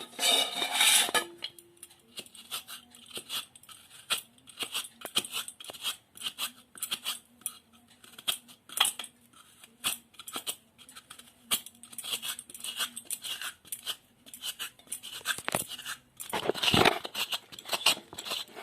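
A coconut is scraped against a metal grater with rapid, irregular rasping strokes and clinks, close and busy throughout, ending with a louder clatter near the end; no speech.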